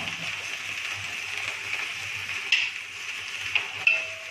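Butter is added to a pan and stirred for a white sauce, giving a soft steady sizzle, with a few spoon scrapes and metal clinks against the pan near the end.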